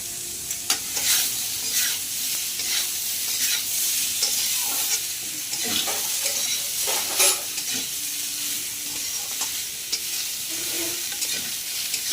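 Onions frying in oil in a pan, a steady close sizzle with repeated scraping stirs through the whole stretch and no talk.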